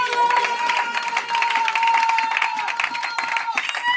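A church congregation claps continuously through a praise moment at a Sunday service, the dense patter of many hands steady and loud beneath a sustained voice or music.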